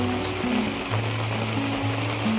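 Heavy rain in Bangalore with water running along a road, making a dense, continuous close wash and rush, with a low hum underneath.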